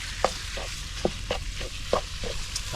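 Shallots stir-fried in a pan for a Thai dish, with repeated scraping and stirring strokes at a steady rhythm over a low, steady sizzle, close by and moderately loud, with no talking.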